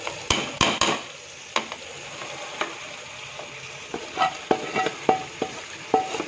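Potatoes and peas fry in ghee with a soft, steady sizzle, punctuated by a string of sharp clanks and scrapes of a utensil stirring against the pan at close range.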